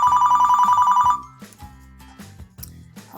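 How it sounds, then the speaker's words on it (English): A cell phone ringtone plays a rapid, regularly pulsing electronic trill for about a second, loud and clear, followed by a short chiming melody from the same handset. "If your phone rings, click on it to see the message."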